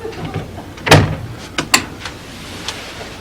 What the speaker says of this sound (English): Open the door, Stanley.